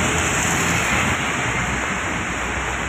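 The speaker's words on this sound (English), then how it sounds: "The excess heavy rains today has brought Mumbai on a standstill." Heavy monsoon rain pours steadily over Mumbai, a loud, dense and continuous wash of rainfall with no breaks and no voices.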